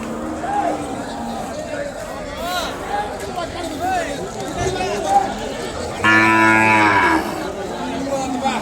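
Cattle and Ongole bulls at an outdoor Sunday livestock market in Kodada, Telangana, low moos and longer bellows rising repeatedly over a constant crowd chatter, with one loud nearby call toward the end.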